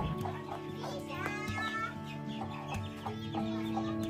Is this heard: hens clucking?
yes